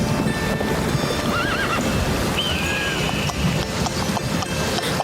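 Horse whinnying in a Hindi animated horror-comedy story set near the Himalayan peaks, with steady hoof clip-clops under a layered background of wind and surf-like noise and talk.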